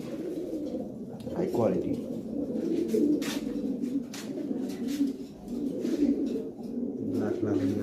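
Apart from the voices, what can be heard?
Lahori pigeons cooing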